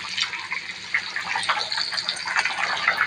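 Chicken curry simmering in a pot with water on low heat, a continuous bubbling, gurgling liquid sound close by, steady and moderately loud with small popping bursts throughout.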